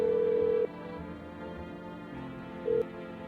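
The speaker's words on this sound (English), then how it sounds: "God, I miss that old phone dial sound." An old telephone dial sound in a video game plays a steady electronic tone that cuts off, then returns as a short beep over a quiet hum.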